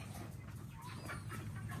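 Hybrid chickens cluck softly amid a constant background hum and noisy outdoor ambience on a poultry farm, the calls faint and scattered.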